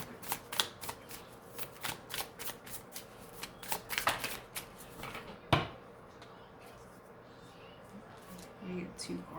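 Tarot cards shuffled by hand in a series of quick, close riffling bursts over the first half, followed by quieter handling and faint rustles.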